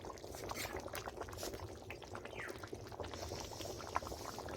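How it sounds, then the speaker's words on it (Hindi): Meat simmering in gravy in a cooking pot, a faint, continuous bubbling with soft pops and crackles, heard up close with no talk. "देखो कि जो कैसे उबल रहा है मीट"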